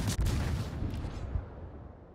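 A large naval gun salvo from a British cruiser fires in World of Warships, one heavy close boom that rumbles and fades into a long decaying tail.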